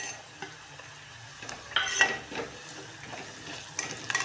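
Ingredients tipped into a hot pan while cooking masale bhat, with quiet stirring and scraping, a brief louder sizzle burst midway and utensil clinks against the pan.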